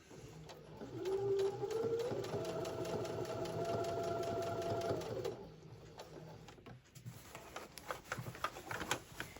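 A sewing machine stitches a patchwork tote bag, a close, steady whirring motor with a rising pitch at the start, running for about five seconds before stopping and giving way to light handling clicks.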